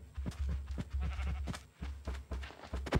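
A cow in the video game Minecraft gives a series of low, moaning calls in an uneven rhythm, fairly quiet, with game sounds and no talking.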